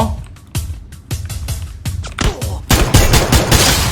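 Video game gunfire rings out as rapid sharp shots, sparse at first and then a dense automatic burst toward the end, loud and close.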